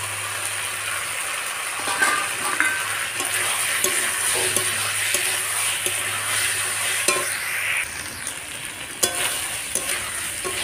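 Prawns fry in a pan with pointed gourd and potato, a steady broadband sizzle with stirring scrapes and occasional clinks, continuous and close, with a low hum that drops out near the end.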